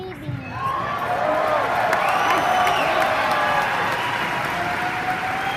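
A convention audience at a Star Wars celebration opening ceremony in Anaheim cheers and claps for R2-D2, BB-8 and their operators, a loud continuous crowd roar with whoops, a voice talking over it throughout.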